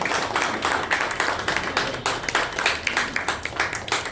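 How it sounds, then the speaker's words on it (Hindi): An audience claps steadily to welcome a guest at an Aurangabad ceremony honouring judicial service exam toppers, with dense, continuous handclaps at moderate volume and no talk over them. "ताली बजा कर स्वागत कीजिए"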